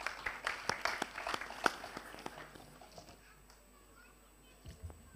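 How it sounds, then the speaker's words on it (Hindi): Audience members clap to welcome a speaker onto the stage at a Ramlila event in a Kurukshetra auditorium, sparse individual claps that fade within a few seconds into quiet, with a voice speaking near the end. "तालियों के साथ स्वागत।"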